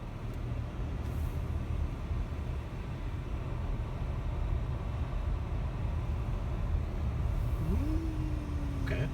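A car rolls through a cramped, oversized single-lane roundabout in Gettysburg, heard from inside as a steady, loud road and engine rumble that never lets up, with a thin rising whine near the end.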